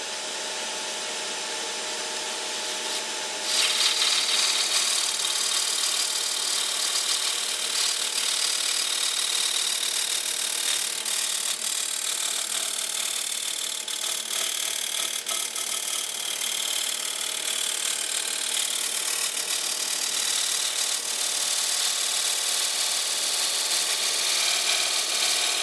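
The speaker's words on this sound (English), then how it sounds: "I'm going to tidy that up with the skew, and I'm going to use the skew like a scraper actually, just to scrape in there." Skew chisel held as a scraper against a tea light holder spinning on a wood lathe, a steady whirring hum with a scraping edge that grows louder after a few seconds and stays continuous.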